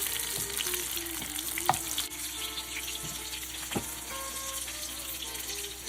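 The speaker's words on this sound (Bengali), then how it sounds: "সেকেন্ড ব্যাচটাও ভেজে নিচ্ছি।" Cubed fish frying in hot oil for a mango mustard honey dish, a steady close sizzle and crackle running continuously, with a few clinks of a utensil and faint kitchen water noise, no voices.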